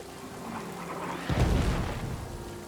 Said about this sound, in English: Can somebody turn the rain off?